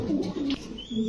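Pigeons at a market stall give a brief, soft cooing burst of two low rolling calls close by.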